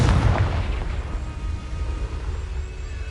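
Confringo fire spell blast in Hogwarts Legacy, a loud booming explosion at the start that rolls off into a long rumbling decay.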